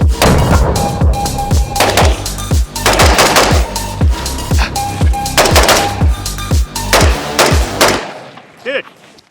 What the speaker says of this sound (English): It's a DMR, you're not supposed to shoot it that fast